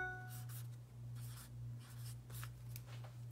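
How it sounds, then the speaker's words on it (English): A pen scratches out a short note on the back of a transfer in soft, close strokes, faint against a steady low electrical hum. "I mark the back, and I write what it is."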